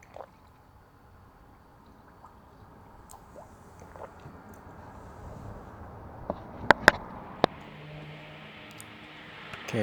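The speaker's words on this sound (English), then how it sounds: "I would just pour some and then spin the water pump by hand and just pour as much as I can in there." Coolant poured into a Toyota 1GR-FE engine during a water pump replacement, a soft steady trickle and gurgle close by with a few sharp clinks near the end.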